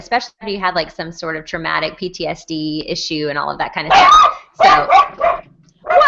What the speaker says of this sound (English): That's my dog. I had no idea he was back there.